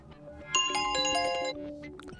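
A short, bright iPhone 16 Plus ringtone melody plays a few chiming notes close by, clear and alone, then fades into faint background noise.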